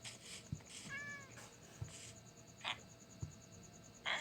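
Several cat meows in short bursts from a video game, some higher and some lower, over a steady insect-like chirping background and occasional soft thumps.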